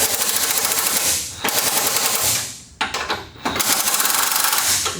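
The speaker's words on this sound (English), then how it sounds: "take your 15mm deep well and just wind them back in a little bit" Impact tool with a 15mm deep well socket winding nuts onto a Ford F-series sway bar end link, loud rapid hammering bursts with brief pauses between them.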